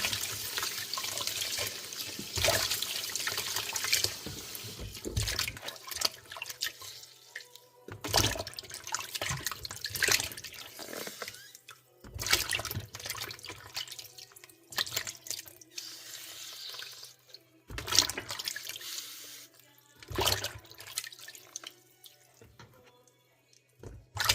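Organic aubergines rinsed under a running kitchen tap, with bursts of splashing water separated by quieter pauses, heard close.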